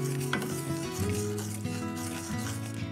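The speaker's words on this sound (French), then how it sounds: "On ajoute le sucre et on mélange jusqu'à sa complète dissolution." Sugar is stirred into vinegar heating in a saucepan, a soft scraping stir and faint sizzle under a steady low hum, close and quiet.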